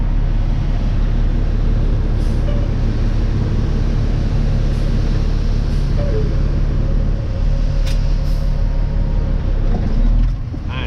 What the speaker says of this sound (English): I did not mean to rip off the clutch like that.